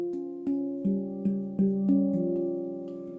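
Handpan played in a minor scale: about seven single struck notes, spaced roughly evenly, each ringing with a warm metallic tone and overlapping the next, close and clear with no talking.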